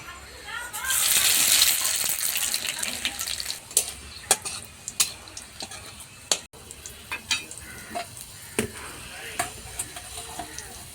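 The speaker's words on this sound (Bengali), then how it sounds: "তেলের উপর দিয়ে দিলাম শুকনো লঙ্কা হলো রামধনি এটা হলো কালি জিরা তেলের উপর দিয়ে দিব" Dried chilli, radhuni and kalo jeera hit hot oil with a brief, loud burst of sizzling. Sharp clinks of stirring in the pan follow, with some voice in the background.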